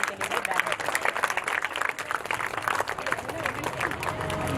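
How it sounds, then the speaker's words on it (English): A school graduation-day audience claps for the chief guest, a sustained round of applause with faint crowd murmur beneath that rises and falls slightly. "Please, with a big round of applause."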